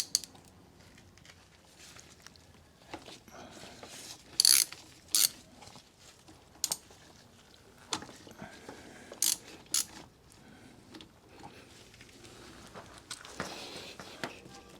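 A ratchet with a 5mm Allen socket tightens bracket bolts on a BMW R100GS motorcycle, producing scattered bursts of sharp ratchet clicks and metallic taps over about fifteen seconds, close but fairly quiet against a low background.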